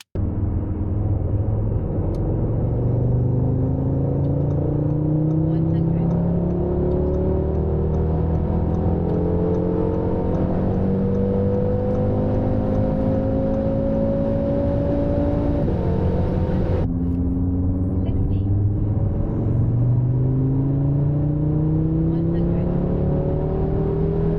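An Audi RS3 8V accelerating hard on a 100-200 km/h run, its engine droning loud and steady with rising tones through successive gear pulls and a brief break at a shift, heard from inside the car.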